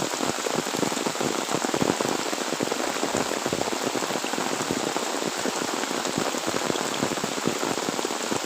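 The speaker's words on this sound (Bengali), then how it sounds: "দেখো প্রচুর জোর বৃষ্টি" Heavy morning rain falling on village fields, a dense continuous patter of drops striking surfaces nearby, loud and even throughout with no talk.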